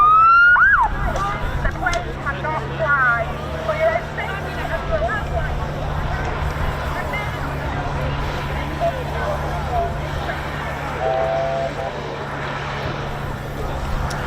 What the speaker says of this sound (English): the sirens you can hear are the safety vehicles on the beach